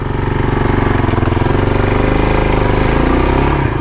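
A 300 off-road motorcycle engine running in the woods, a loud, close, rough, rapidly pulsing drone that holds steady throughout with slight rises in pitch.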